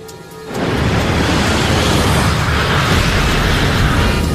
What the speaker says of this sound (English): That sounded like some kind of explosion.